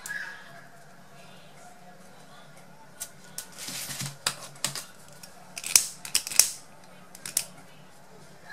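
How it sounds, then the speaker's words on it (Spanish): Scissors snip leftover ribbon on a small craft bow, a handful of sharp close cuts clustered in the second half over a quiet room with faint background noise. "Cortamos lo que sobra y sellamos."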